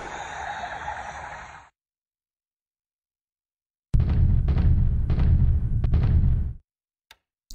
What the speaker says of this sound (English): Destroyers continuing to bombard Apari.